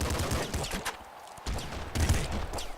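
Rapid SMG gunfire in the video game Nuclear Throne crackles in two quick bursts separated by a brief gap, loud and close with no speech.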